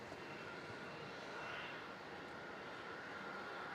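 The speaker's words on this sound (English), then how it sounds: "taxing out currently, I believe, is a Embraer 190 Qantas link heading off to Newcastle" An Embraer 190 Qantas Link jet taxis at Melbourne Airport, its engines giving a steady, even, broadband whine and roar heard from a distance with no breaks.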